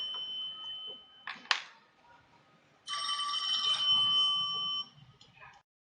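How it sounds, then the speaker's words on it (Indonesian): A telephone ringing, a bright electronic ring tone heard in two bursts, the second a longer sustained stretch of about two seconds, moderately loud against a quiet background. "ini Om Agus Medan lagi telepon nih"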